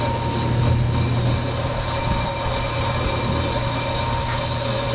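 An old brake rotor resurfacing lathe, about thirty years old, runs steadily on a rotor from a Pontiac Grand Prix GXP, giving a loud continuous mechanical drone with a faint rhythmic ticking and no talking.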